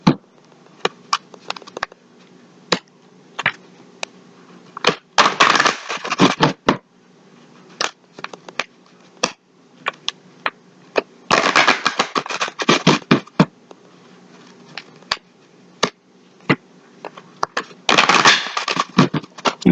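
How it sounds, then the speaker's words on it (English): Tarot cards being shuffled by hand, with bursts of riffling flutter and scattered sharp taps and slaps of the deck, three main shuffle bursts among quieter handling clicks, close and alone. "Three shuffles."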